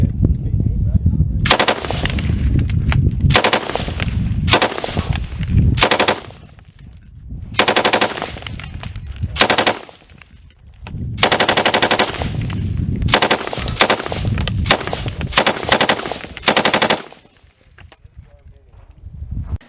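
Rapid rifle fire cracks out at an outdoor shooting range at a special weapons training center, in loud bursts and strings of shots separated by short pauses, with people talking between volleys.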